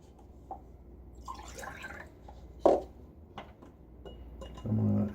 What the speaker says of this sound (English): I'm going to start adding water to this.